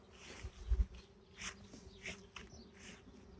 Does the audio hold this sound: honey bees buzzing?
yes